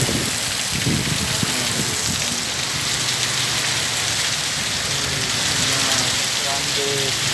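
Heavy rain pours down steadily in a dense, loud hiss of drops hitting surfaces, continuous throughout with no letup.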